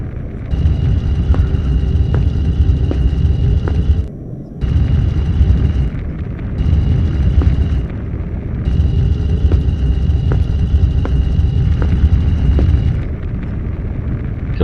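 A fire jet in the PS2 game Harry Potter and the Sorcerer's Stone bursts out in loud, sustained roaring blasts, cutting off briefly and resuming over a steady hum.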